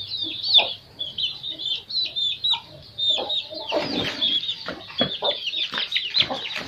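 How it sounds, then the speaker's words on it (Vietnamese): Backyard chickens cluck continuously at close range, with busy overlapping calls and sharp clucks, while a person speaks briefly in the background. "Ở nhà mấy con gà."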